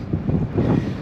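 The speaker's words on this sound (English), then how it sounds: "it's gone windy" Wind buffets an outdoor microphone in a short burst of loud, low, rumbling gusts, with no other sound standing out.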